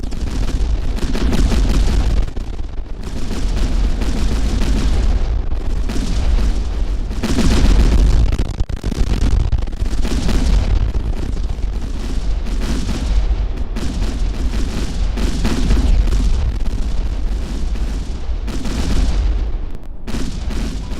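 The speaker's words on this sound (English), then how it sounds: "as you destroy modules or components of a ship, you will see secondary explosions" Ship modules and components blowing apart in space combat in the video game Kinetic Void set off a long run of heavy, repeated booms and blasts that overlap one another, loud and without any voices.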